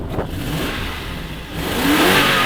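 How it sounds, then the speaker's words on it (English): A V8 engine in a donor car revs hard close by, a loud, steady roar that swells toward the end. "That sounds like a V8 to me."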